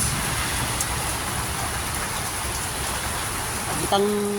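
Steady, even hiss of light rain falling throughout during a typhoon in Leyte, Philippines, with a faint tone rising near the end.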